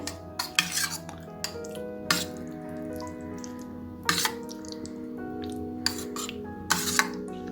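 A spoon scrapes and taps against a bowl while grated carrot is mixed with salt. The clinks are quiet, close and irregular, repeated over several seconds, with faint kitchen background and no speech.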